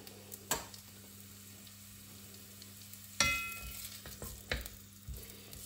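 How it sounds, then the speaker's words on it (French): Quiet, faint sizzle in a saucepan, broken by a few sharp scrapes and clinks of a utensil stirring the onions. "Je vais commencer par faire revenir un tout petit peu les oignons."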